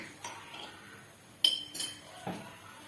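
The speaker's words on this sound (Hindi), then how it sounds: "अभी इसमें हम थोड़ा सा नमक डालेंगे" A metal spoon clinks a few times against a pressure cooker while a little salt is added to tomatoes and water, sharp close taps scattered over a quiet kitchen.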